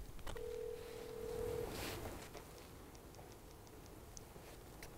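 A telephone call on speakerphone gives a steady tone of about a second, then faint, regularly spaced ticks and beeps over a constant background hiss.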